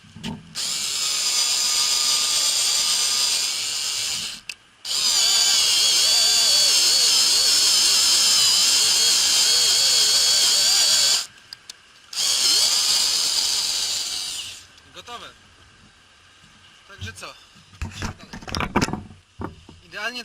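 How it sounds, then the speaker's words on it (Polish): A Niteo Tools cordless screwdriver drives a screw in a tight spot with loud, sustained whirring bursts and short pauses between, then quieter clicks and handling noise toward the end. "a wkrętak nam idealnie tutaj wywiera w tym miejscu otwór"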